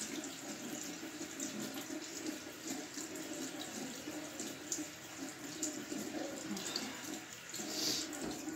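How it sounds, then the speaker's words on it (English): Water runs steadily from a bathroom sink tap while someone rinses their face, a continuous close hiss and splash with faint splashes of hands in the stream, no voices. "first I gotta rinse my face off"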